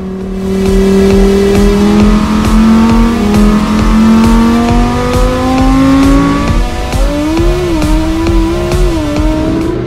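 Lamborghini Huracan STO with a 5.2-litre V10 accelerating hard, a loud, close engine rising steadily in pitch through the gears with a brief shift break, no talk over it.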